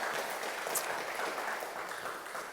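Church congregation applauding a first-time visitor during a sermon: a soft, steady wash of many hands clapping, heard from a distance and fairly faint throughout.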